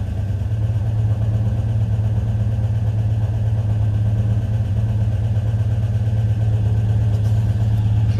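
Turbocharged V8 police car engine idling close by, a steady low rumble that holds even for the whole stretch.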